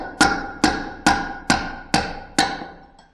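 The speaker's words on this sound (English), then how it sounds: "I'm going to use a hammer and drive" A hammer drives a bearing out of a bike's swing arm: six sharp, ringing metal strikes land close up at a steady, even pace, each decaying quickly before the next.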